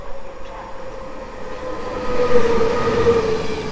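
An Intercity Premium express train, a Warsaw to Kraków service with a substitute carriage set, rolls into the station alongside, a steady rumble and rail hum that swells as it draws near.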